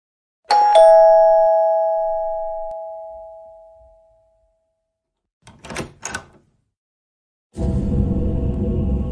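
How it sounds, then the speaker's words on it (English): A doorbell at the front of a house chimes once, with a bright ding-dong tone that rings out and decays over several seconds. A couple of short knocks or clatters follow, then a burst of broadband noise. "I think I ring the doorbell in the front of this house one more time."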